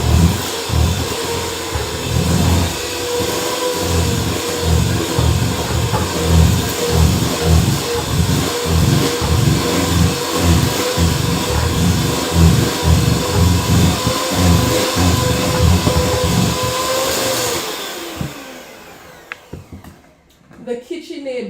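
A stand mixer whirs as it beats lemon cake batter in a bowl, its motor humming under a regular rhythmic thumping for most of the time before it winds down near the end, with voices faintly in the background.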